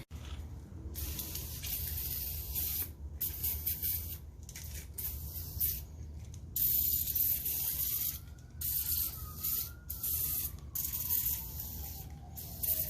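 Penetrant sprayed onto old 1969 Mustang fastback spindles: bursts of close, steady hissing separated by short pauses, with a faint whistling tone rising and falling partway through.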